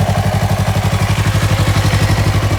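A 2024 Yamaha MT-03 motorcycle idling while warming up, its engine throbbing in a steady, rapid, even pulse with mechanical clatter, loud and close throughout.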